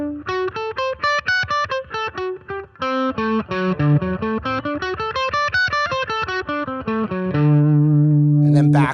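An electric guitar picks a quick blues arpeggio over the IV chord in a 12-bar blues in A, notes running up and down in an even stream, ending on a sustained held note, played alone and close.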